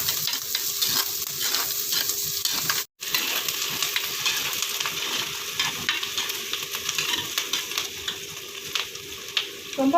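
Onions sautéing in a pan for kuzhambu-style gravy hiss and sizzle steadily while a spoon scrapes and stirs, with a brief dropout early and a couple of louder clinks near the end; no speech.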